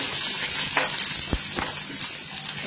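Garlic fries in hot oil over a high flame with a busy, close sizzle. A few sharp pops and spatters cut through the crackle.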